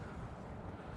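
Gusty woodland wind roars around a Berghaus Peak 3.1 Pro tent at a solo wild camp, a brief, continuous low rumble heard alone.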